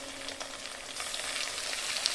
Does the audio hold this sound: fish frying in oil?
yes